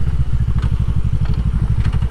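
A Suzuki GSR250F motorcycle engine idles close by, a steady rapid low-pitched putter with even, regular pulses throughout.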